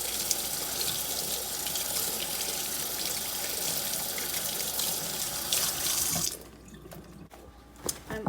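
Kitchen tap water runs over tomatillos being rinsed, a steady bright splashing hiss for about six seconds, then it stops and only faint drips and handling noises remain.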